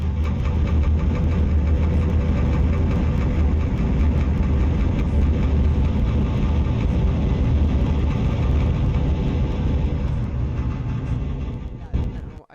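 Estate car engine in a city-building video game, starting up and settling into a steady, loud, droning idle that runs continuously before cutting off near the end.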